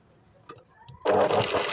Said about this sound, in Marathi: आता याच्यावर आपल्याला डबल शिलाई करून घ्यायची